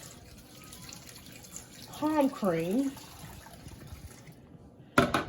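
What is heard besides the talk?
hot water poured over palm cream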